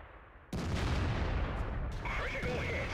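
A single artillery shot in World of Tanks lands as a sudden loud boom, followed by a rumbling tail and a second fainter crack with a metallic reload-like whine.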